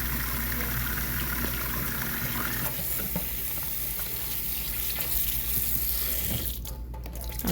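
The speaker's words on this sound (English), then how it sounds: "we wash them again." Peeled potatoes are washed in water, a steady loud rush of tap water with sloshing and rubbing, then a brief change in the flow near the end.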